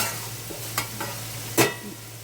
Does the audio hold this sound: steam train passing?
no